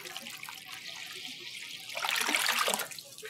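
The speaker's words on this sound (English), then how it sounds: "I'm just going to use a basin here and fill it with a bit of water." Water runs from a tap into a basin, a soft steady trickle that swells into a fuller, splashier rush near the end, quiet and close.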